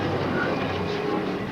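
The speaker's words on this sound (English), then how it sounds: "freight trains depart from this terminal here in Manchester daily. This is the 1210 bound for France and Italy." Freight train pulling out of a rail terminal in Manchester, a steady close rumble and rolling clatter filling the short stretch without pause.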